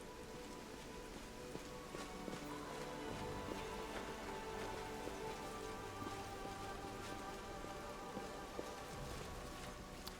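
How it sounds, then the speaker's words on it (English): Steady rain falls in the video game Wrath of the Righteous, a continuous soft patter of drops on surfaces, faint and even throughout with no talk over it. "It's a rainy day, huh? Or rainy evening, I guess it is."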